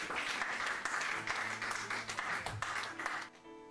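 A church congregation bursts into applause for the Lord, dense sustained clapping from many people that fills the room and then drops away abruptly near the end.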